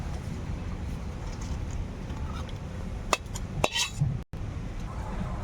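A pot of rohu fish cooked with lafa greens is lifted off the stove, giving a few brief metallic clanks and scrapes over steady kitchen background noise, then a short sharp knock.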